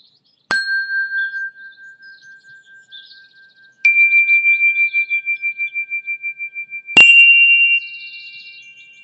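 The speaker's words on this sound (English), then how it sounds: "when I did the chimes this time" Three chimes ring out one by one, each struck cleanly and left to sustain with a long, pure, slowly fading tone that shimmers slightly, loud and near in an otherwise silent space.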